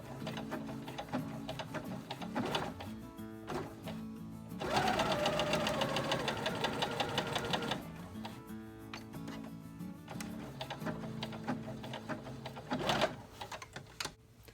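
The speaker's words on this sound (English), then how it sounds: "So I'm just gonna sew over it." A home sewing machine stitches a diagonal seam across a quilt block, its motor whirring in steady bursts with short pauses and one louder, faster run in the middle, close and alone.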